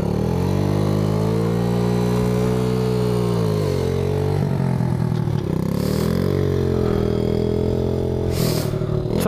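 A Yamaha Moto 4 80cc ATV engine runs loud and close, a steady buzzing idle that dips and rises slightly as the throttle shifts, with a couple of brief clattering bursts over it.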